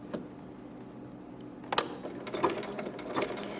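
Sewing machine stitching fabric along the edge of an appliqué muzzle on a beginner's monster bag, quiet mechanical whirring broken by short bursts of rapid stitching and a sharp clack near the middle.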